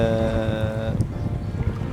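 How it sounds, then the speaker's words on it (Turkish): Low rumbling water and wind wash around a small boat in choppy, half-metre sea waves, with a steady tonal hum fading out early and choppy splashing throughout. "Şu an çok dalgalı, yani yaklaşık bir yarım metre dalga var."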